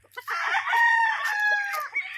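A rooster crows on a mountainside, one long loud cock-a-doodle-doo close to the listener that fills most of the clip, with a few short clucks around it and no talking.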